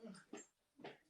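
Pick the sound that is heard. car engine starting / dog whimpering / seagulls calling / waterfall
dog whimpering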